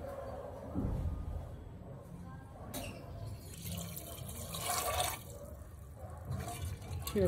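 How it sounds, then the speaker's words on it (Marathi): Water poured into a metal pressure cooker holding chickpeas, a faint splashing fill with some light clinks; quiet and close. "आता साधारण ग्लासभर पाणी घालूया।"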